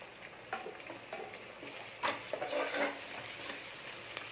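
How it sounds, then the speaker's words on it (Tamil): Diced carrots and small-cut potatoes sauté in hot oil for a coconut vegetable biryani, giving a quiet, steady sizzle broken by a few brief stirring scrapes, with no talking. "இதையும் போட்டு நல்லா வதக்கிக்கோங்க. நல்லா வதங்கட்டும் இந்த எண்ணெயில் கொஞ்சம் நேரம்."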